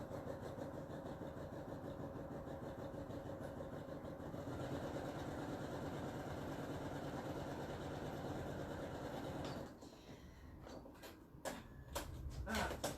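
A sewing machine runs steadily as it stitches a fabric panel seam, a dense mechanical whir that stops near the end, giving way to scattered clicks and handling noises.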